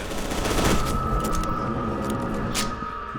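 Submachine-gun fire in the shooter video game FEAR 2 crackles in rapid bursts, loud and close over a rumbling game backdrop.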